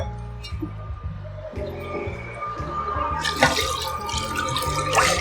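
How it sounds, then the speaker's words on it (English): Water runs from a tap into a cooking pot for homemade vegetable broth, a steady splashing pour that grows louder and brighter as the pot fills, with light clinks and handling noises. "right now, I am going to add 8 cups of water"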